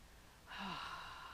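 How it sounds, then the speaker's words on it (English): A single audible inhale at the start of a guided prayer during a Sunday church message, a breathy rush rising from near-silence about halfway through and holding steady to the end, close to the microphone. "So we breathe in."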